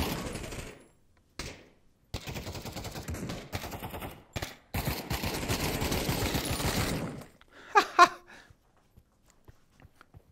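Rapid bursts of gunfire from a VR shooter video game crackle in irregular clusters with gaps of near silence, ending in a few sharper isolated shots.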